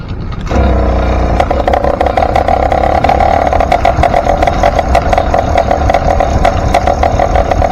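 A 100cc motorized bicycle engine fires up loud and close, then holds a rough, rapid buzzing drone with small throttle surges, running steadily to the end.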